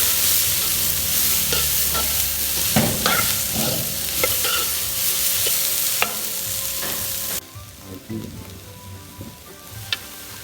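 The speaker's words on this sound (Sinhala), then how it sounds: "බොංචි ටිකත් එක්කම අපි කූනිස්සෝ ටිකත් මේකට දාගමු. මේ පොඩ්ඩක් ෆ්‍රයිඩ් වෙන්න." Green beans and small shrimp frying in a pan, with a steady loud sizzle and repeated scraping stirs; the sizzle drops sharply near the end, leaving quieter scattered crackles.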